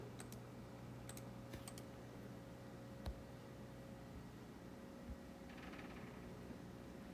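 A few sparse, faint keystrokes on a computer keyboard while a math function is typed into graphing software, with clicks scattered over a steady low hum and no talking.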